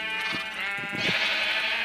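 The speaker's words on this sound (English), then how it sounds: "Stop eating my grass, sheep." Sheep bleat a few times in close succession, wavering nasal cries heard alone and fairly near, the calls of farm animals in a game setting.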